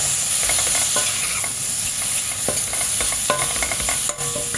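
Finely chopped onions and tomatoes sautéing with masala in a hot pan, a loud continuous sizzle overlaid by frequent scraping and clinking spoon strokes against the pan, close and busy.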